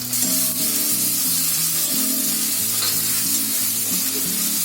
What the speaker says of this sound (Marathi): आता त्याच्यामध्ये मी टोमॅटो टाकते